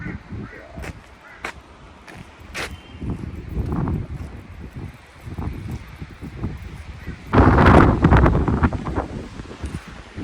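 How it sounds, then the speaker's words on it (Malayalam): Strong mountain wind in the Himalayan Kinnaur valley buffets the microphone in uneven gusts, swelling to a loud roaring blast near the end, with occasional voices outdoors. "നല്ല കാറ്റ്, ക്യാപ്പിങ്ങനെ വെച്ചാൽ പുറത്തു പോകാൻ മാതിരി കാറ്റ്."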